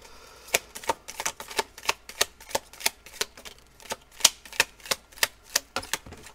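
A deck of playing cards being handled while another card is drawn, giving a fast, steady run of about eighteen crisp, close snapping clicks with no talking.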